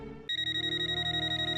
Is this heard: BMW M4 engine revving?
no